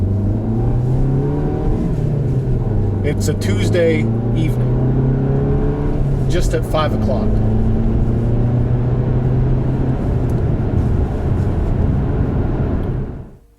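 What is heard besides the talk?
Volkswagen GTI front-wheel drive car driving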